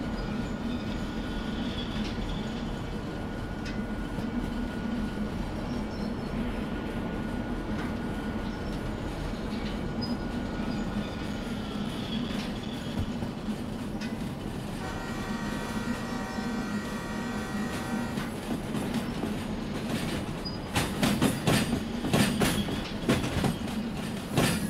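A train rolling along the rails in the railway simulator game Derail Valley: a steady, loud rumble of wheels and cars throughout, turning rougher with rapid clattering toward the end.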